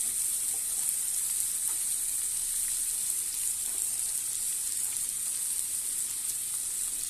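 A paneer dish frying in a pan, with a steady, close sizzle and faint stirring scrapes running throughout, no voices.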